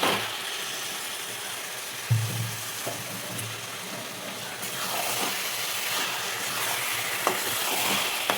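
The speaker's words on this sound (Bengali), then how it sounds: "আর এখন দেবো হচ্ছে মাছটা। এই যে মাছটা এবারে দিয়ে দেবো।" Bombay duck (loitta) fish frying in a hot pan, giving a steady broadband sizzle throughout with a louder burst of hissing and spattering as the fish goes in, plus occasional stirring scrapes; no one speaks.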